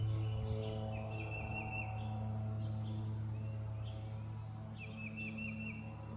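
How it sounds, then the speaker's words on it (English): Outdoors, a small bird sings a few short trilled phrases, faint and somewhat distant, over a steady low engine drone from a lawn mower running nearby. "Oh, I hear a bird."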